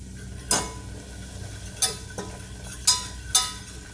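A flour mixture is stirred into hot oil to make a roux, with a quiet sizzle under four distinct, sharp scraping clinks of a utensil against the pan, spaced irregularly.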